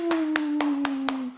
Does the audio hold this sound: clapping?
yes